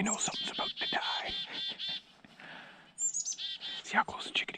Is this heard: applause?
no